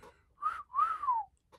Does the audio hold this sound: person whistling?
yes